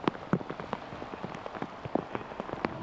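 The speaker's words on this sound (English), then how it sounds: "even the rain that's still falling is like it's cold" Cold rain patters steadily on a golf course, a dense close drumming of drops with scattered louder hits and no voices over it.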